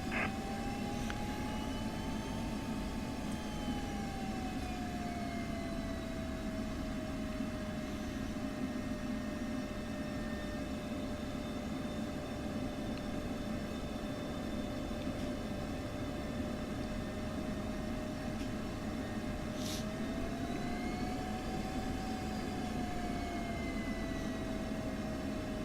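An F-16C fighter jet taxiing toward parking in the DCS flight simulator gives a steady, continuous turbine whine with a slowly wavering tone, heard alone throughout.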